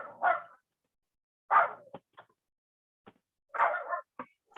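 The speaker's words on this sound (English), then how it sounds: "I have a little dog barking." A small dog barks nearby in three short, separate barks with quiet gaps between them, with faint clicks and taps in the pauses.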